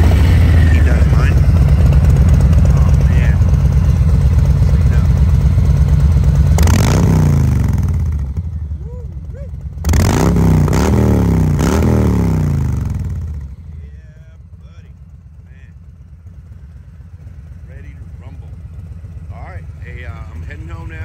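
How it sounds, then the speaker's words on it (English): A 2020 Harley-Davidson Softail with Cobra headers rumbles loudly and close, a deep idle broken by a few sharp revs before it settles back to a lower, quieter idle. "I installed the Cobra enabler headers, which sound amazing"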